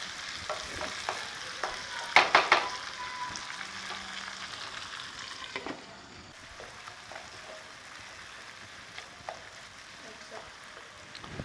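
Tomatoes for a tadka fry in a covered pan for an anda cholay dish, a soft, faint sizzle with a few clattering stirs and lid knocks early on, growing quieter after.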